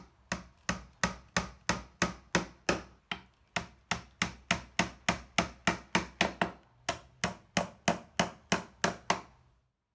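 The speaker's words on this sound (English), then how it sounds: "there was no room for error nailing into the edge of the thinner tray" Steady hammer blows driving nails into the thin wooden border of a serving tray, about three sharp, close strikes per second with a short pause midway, no talking.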